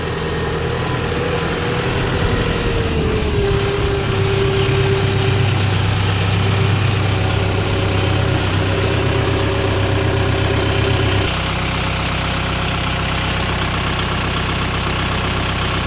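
A loaded two-ton truck hauling sugarcane idles steadily at close range, its engine giving a continuous low rumble with a faint tonal hum that holds for most of the stretch before easing slightly.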